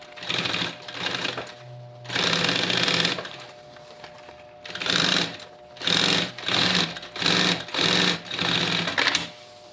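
A sewing machine stitches the lining into the bottom of a backpack in repeated rapid bursts, each run a few seconds long and separated by brief pauses, loud and close with no talking.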